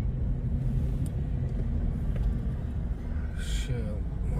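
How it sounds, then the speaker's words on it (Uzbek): Cars rolling past on a busy road during an evening flower festival, a steady low rumble of traffic close by with a brief lighter whoosh of a passing vehicle near the end. "Orqamda endi mashina ham bor."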